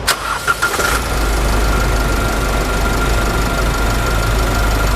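A 2021 Isuzu D-Max 1.9 diesel pickup engine cranks briefly with a few rough chugs, then catches and settles into a loud, steady clattering idle close by.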